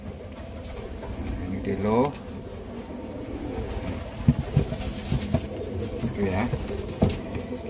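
A sick pet pigeon coos softly in repeated low rolling calls, close and fairly quiet, while someone talks over it and a few knocks and rustles sound nearby.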